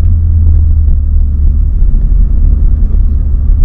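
A Skoda Octavia RS245 running a Revo Stage 2 map accelerates hard, its engine a loud, steady low rumble from inside the car, filling the whole clip without a break.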